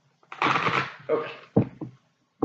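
Tarot cards being shuffled and drawn, a few close riffling bursts followed by short card snaps and taps, with a quiet pause between them.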